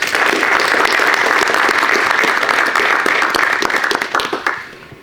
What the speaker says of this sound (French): je pense qu'on peut tous s'applaudir pour le chemin parcouru jusqu'aujourd'hui